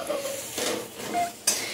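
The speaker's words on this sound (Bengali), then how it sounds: "এখানে আলু ভাজা হচ্ছে, ওখানে পেঁয়াজটা ভাজা হচ্ছে" Potatoes and onions fry on a clay stove, with close sizzling broken by short scraping stirs of a utensil against the pan over a couple of seconds.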